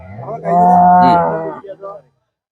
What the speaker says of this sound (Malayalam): വലിയ വിലയുള്ള പശുവാ